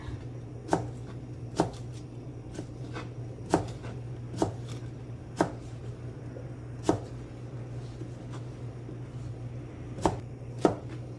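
A knife slicing a potato thinly on a cutting board, about a dozen crisp taps landing at an irregular pace over a low steady hum, close-up with no talking.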